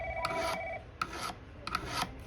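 Floral snips are drawn across a coarse sharpening stone in short rasping strokes, three or four close scraping passes with brief pauses between them, quiet and without any voice.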